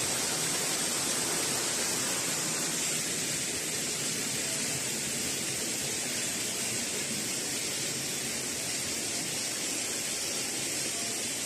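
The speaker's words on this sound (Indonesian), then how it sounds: "Itu gemericik air, kayak air terjun" Steady, rushing roar of water pouring like a waterfall in a valley in Tumpang, Malang, East Java, constant and full throughout with no pauses.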